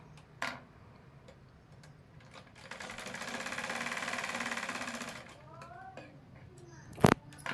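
A sewing machine stitches the lining of a blouse, its needle whirring in one steady run of a couple of seconds, with light ticks before and after and a sharp clack near the end.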